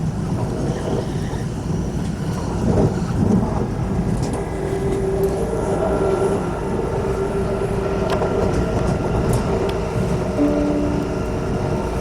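An S-Bahn train at Frankfurt gives a continuous low rumble of rolling wagons, with brief high squeals and faint tonal hums now and then. The sound stays steady and fairly close throughout, and no one speaks.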